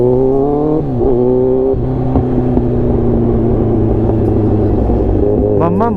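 A Kawasaki Z1000 motorcycle engine revs loudly and steadily up close, its harmonic drone rising and dipping with throttle blips and settling back to a sustained growl, ending with a brief higher rev.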